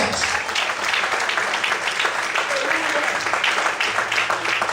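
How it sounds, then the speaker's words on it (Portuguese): A church congregation claps loudly and steadily in a dense, continuous roll, with faint voices mixed into the ovation. "Quantos podem aplaudir e exaltar a Deus bem forte?"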